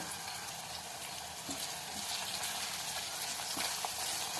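Onions softening in a pan for a mixed dal sambar, giving a steady close sizzle of frying that holds evenly throughout, with a few faint stirring clicks.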